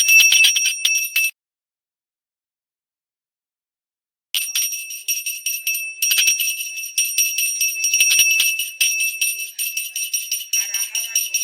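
A small hand prayer bell rings rapidly and continuously during a food offering, bright and close, pausing for a few seconds of silence before ringing again at length.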